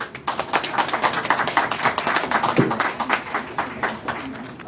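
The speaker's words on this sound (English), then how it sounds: "And round of applause." Audience applause at a Pride candidate forum, as a short break begins: a crowd's dense, steady hand clapping runs the whole time, fairly close and loud, with no talk over it.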